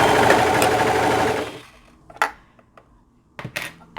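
A serger sews a knit neckband, running in a fast, continuous burst for about a second and a half before stopping, followed by a few light clicks and handling taps.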